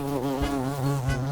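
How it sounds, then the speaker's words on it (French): A large carpenter bee (xylocope) gives a loud, steady, deep buzz close by, its pitch wavering slightly as it hovers, with no voices. "notre championne de la catégorie des poids lourds, le xylocope"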